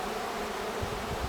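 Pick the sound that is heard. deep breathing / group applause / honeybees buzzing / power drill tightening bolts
honeybees buzzing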